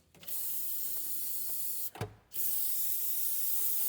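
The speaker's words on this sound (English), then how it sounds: "I'm gonna grab some brake clean. Time to" Brake cleaner sprayed over a BMW engine to find an oil leak, two long, loud, close aerosol hisses separated by a short break, with a brief rattle between them.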